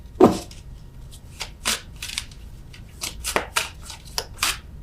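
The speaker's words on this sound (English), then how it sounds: "I'm terrible at shuffling these cards." Playing cards being shuffled by hand during a tarot-style reading, a series of quick papery riffles and snaps spaced irregularly, close and fairly quiet, with no one speaking.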